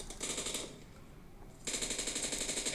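Rapid automatic gunfire in PUBG Mobile on the Livik map, loud and close: a sustained burst, a short pause, then another steady rattling burst.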